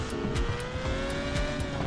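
An F1 car with its front and rear wings removed, driven in a racing video game, with a steady high engine whine rising slowly in pitch and short bursts of tyre or kerb noise.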